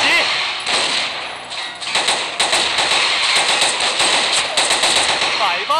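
T91 rifle gunfire in the game Thunder Assault, rapid bursts of sharp shots in quick rhythmic volleys, loud and close, with a brief pause before firing continues.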